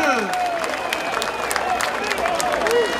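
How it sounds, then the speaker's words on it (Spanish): Applause from a crowd at a public rally supporting a newly elected Supreme Court president, scattered clapping under shouting voices and crowd noise. "Démosle un aplauso al órgano legislativo y al órgano"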